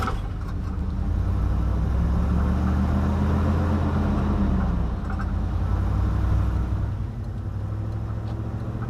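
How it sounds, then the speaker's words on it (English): A Jeep Wrangler drives along with a steady low engine drone and road rumble, rising slightly in pitch midway before settling, heard from inside the cabin with no talking. "Buckle up for safety. And let's go for a quick drive."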